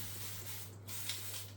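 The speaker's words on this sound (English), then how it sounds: "spray it on the handles" Thick paint is sprayed onto furniture handles during a rustic makeover, a steady close hiss lasting under two seconds over a low electrical hum.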